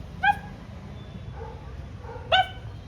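A dog in front of a house gives two short, high yelps about two seconds apart, with faint whines in between, heard fairly close and with no talking.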